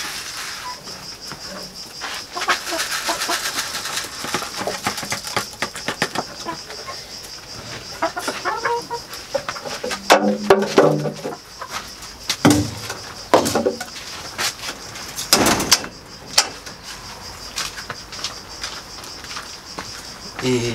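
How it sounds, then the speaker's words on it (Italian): Hens cluck and squawk close by while pecking feed from a loaded hopper, a busy overlapping chatter with sharper bursts and some louder calls toward the end, over a steady insect-like hiss. "abbiamo appena finito di dare il mangime alle galline"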